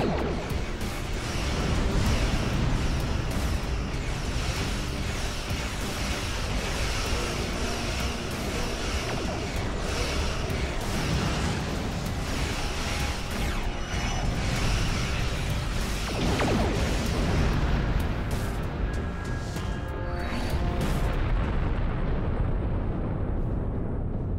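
A spread of torpedoes fired and detonating in the space combat of Star Trek Online: a long, dense roar of overlapping blasts and rumbling bursts that stays loud throughout before thinning slightly near the end.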